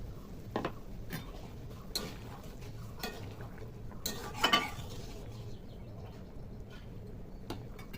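Fried pointed gourd pieces being stirred into a simmering mustard gravy in a pan, giving scattered soft utensil clicks and scrapes with a brief louder clatter midway, over a low steady kitchen background.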